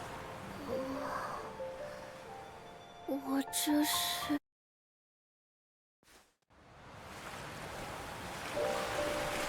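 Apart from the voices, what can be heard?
sea waves in Azur Promilia video game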